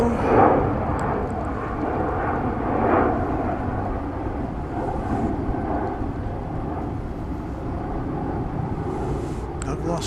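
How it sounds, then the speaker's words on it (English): An American Airlines jet airliner on its night takeoff on the east side of the airfield at DFW Airport, a distant low rumbling roar that swells gently and holds steady, with a voice talking faintly over it. "One of 4 or 5 daily American Airlines flights to London from DFW."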